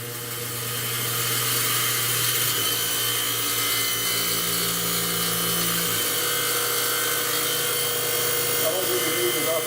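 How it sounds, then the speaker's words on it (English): Bench grinder wheel cleaning up automotive brake lines, a continuous whirring hum with a gritty abrasive hiss that shifts in pitch as the line is pressed against the wheel, steady and fairly close. "come in with the grinding wheel here, the bench grinder, and just clean these up for either paint or clear."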